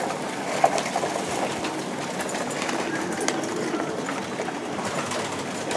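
Pet pigeons coo softly amid a busy, noisy background, with faint low calls that blend into a steady wash of ambient sound and no clear talk.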